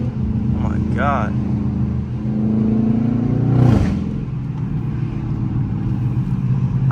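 A Dodge Charger R/T engine revs loudly while driving through the city, with a throaty steady drone and a rising rev burst near the middle as it downshifts from second into first gear.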